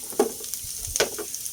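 Garlic frying in a pan with onion, a close, steady sizzle with small crackles and a few stirring scrapes.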